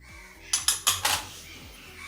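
Metal spoon clinking against a bowl while mixing coriander powder, byadgi masala, red chilli powder and homemade masala for a Konkani fish thali, four sharp clinks in quick succession, close and clear, then quiet.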